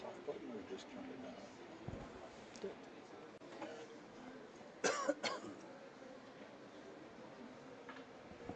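A commentator covering a match broadcast lets out a short pair of coughs near the microphone, brief bursts over a quiet room murmur.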